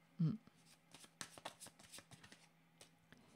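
Tarot cards being shuffled by hand, a quick burst of soft papery riffling and slaps in a quiet room, with a short knock near the start.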